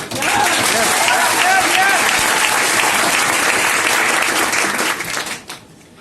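Loud, sustained applause from a large audience at a motivational talk, a dense wash of many hands with some voices mixed in, holding steady for about five seconds before tapering off.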